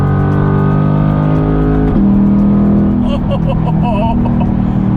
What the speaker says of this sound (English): It legit sounds like a race car.